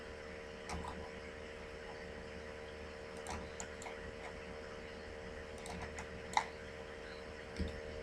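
Computer keyboard in use while working in a structural design program: faint, sparse keystrokes with a few sharper, louder key presses like an enter key, over a low steady room hum.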